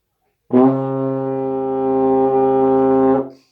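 A single sustained euphonium note, full and steady for about two and a half seconds, with a slight wobble in pitch as it flips from a C toward a lower note before fading out.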